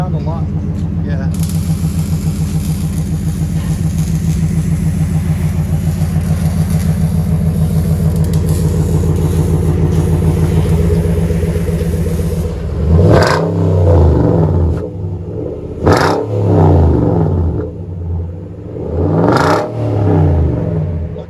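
Close-up, a Nissan Titan 5.6L V8 with a Flowmaster Super 10 exhaust and new tip idles with a loud, steady burble, then blips sharply three times in quick rising and falling revs.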